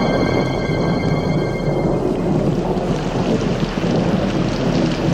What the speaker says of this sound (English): And then the rains came, hissing and steaming off the hot surface rock